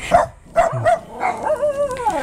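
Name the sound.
dog barking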